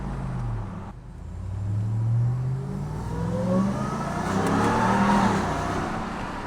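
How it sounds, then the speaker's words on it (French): A supercharged RAM TRX pickup with more than 700 hp revs close by, its engine note climbing in waves while a high supercharger whine rises and falls above the low rumble. "Ah ouais, t'entends le compresseur."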